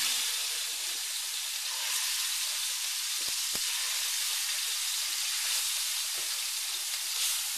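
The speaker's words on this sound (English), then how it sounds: "We're going to place it in our hot skillet." Salted and peppered pork tenderloin sears in a hot skillet, giving a steady, loud sizzling hiss throughout with a couple of brief clacks of a utensil partway through.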